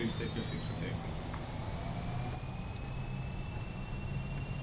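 Twin jet engines of a Fokker F28 airliner in Microsoft Flight Simulator spooling up on the runway for takeoff, a steady loud roar with rising high whines, while someone talks over it.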